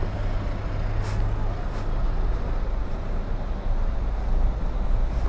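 A BMW R18 1800cc motorcycle engine rumbles steadily close by, a low, even idle with a slight shift in tone partway through and no talk over it.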